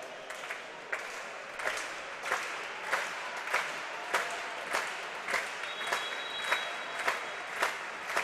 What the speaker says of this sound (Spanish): Aplaude el Cid.